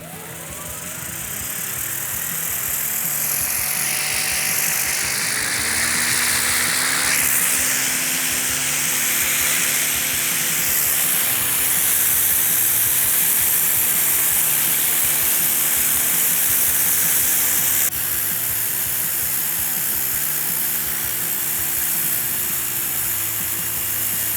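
A pressure washer fitted with a circular-pattern nozzle sprays continuously with a loud, steady hissing rush over a low pump drone, its tone shifting slightly as the spray moves, with no talking.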